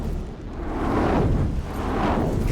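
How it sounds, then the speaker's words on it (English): Rumbling explosions in the naval combat game From the Depths during a team-fight tournament round, a continuous dense roar of blasts and booms swelling across the span with no talk over it. "Explosions on that one"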